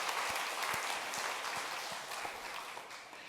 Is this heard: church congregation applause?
yes